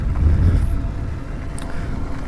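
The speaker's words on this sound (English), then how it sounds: "Motor makes a little bit of noise, but not too much, and it's certainly not annoying" Hovsco Hovbeta 1300-watt folding electric bike riding over gravel, a steady low rumble of motor and tyres with a faint higher whir, fairly close and constant without talk.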